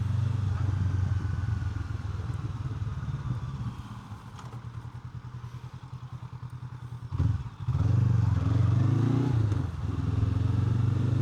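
A 2025 Honda NX500 twin-cylinder motorcycle engine rumbles low and steady close by, with a brief throttle blip and some clattering thumps over rough, bumpy ground.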